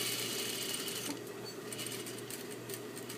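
A sewing machine stitches a fabric skirt with a steady, close mechanical whir and a fast needle rattle that eases slightly partway through.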